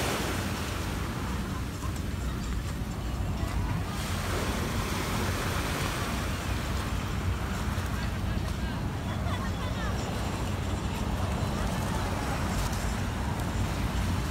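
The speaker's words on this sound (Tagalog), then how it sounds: "Agos ng tubig, yung alon." Waves and flowing water lap along the shore of Manila Bay, forming a steady broadband wash mixed with wind, while voices and crowd babble sound faintly in the background throughout.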